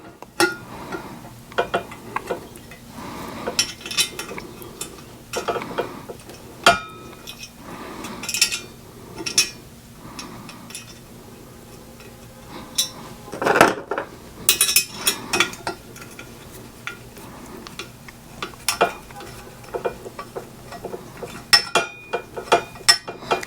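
A metal exhaust baffle is worked into a fishtail exhaust tip, giving a long series of scattered metallic clinks, scrapes and knocks, irregular and close, with short quiet gaps between bursts and no speech.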